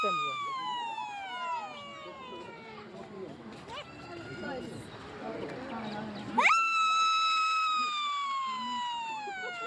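A loud, high sliding siren-like whistle of the Sinhagad Express train horn blares, fading and returning, then cuts back in sharply near the end, with voices murmuring underneath.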